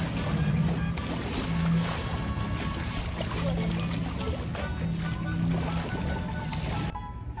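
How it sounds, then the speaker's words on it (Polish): The Zadar sea organ sounds as waves flow into it, giving soft, breathy hooting tones that come and go over a continuous wash of sloshing seawater. The tones are heard at moderate distance, with no talk. "Konstrukcja, do wnętrza której wpływają fale, powoduje wydobywanie się przedziwnych dźwięków."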